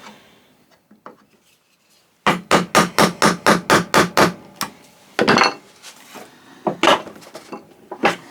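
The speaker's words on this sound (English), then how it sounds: "I need to chisel down to depth here" A hammer drives a chisel into wood, cutting a groove for cupboard door joinery, with about nine sharp, evenly spaced strikes in a fast run, then a few scattered harder blows and light scraping, close and loud.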